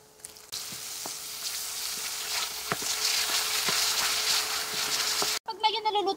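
Garlic and onion sizzle steadily while frying in a pan, a continuous bright crackle with occasional sharper pops and stirring clicks, ending abruptly in a brief different noise.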